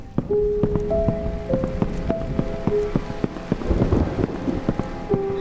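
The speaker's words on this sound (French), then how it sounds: "Un petit orage par-dessus le marché." A thunderstorm with rain in the video game Evil Inside: steady rain hiss with low thunder rumble, overlaid by repeated sharp drips and short ringing tonal plinks at irregular intervals.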